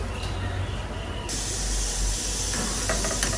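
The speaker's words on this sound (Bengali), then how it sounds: "এই যে দেখো ছোট কড়াইয়েও ভাজা যাচ্ছে" Long roll-shaped sweets fry in a small wok, giving a loud steady hiss of bubbling oil that swells brighter partway through, with no voices.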